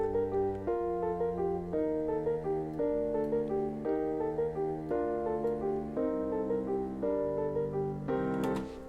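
MuseScore notation software plays back sampled bass and cello lines: sustained low bowed notes move in steady stepwise changes beneath a synthetic orchestral texture, even and continuous with no voices.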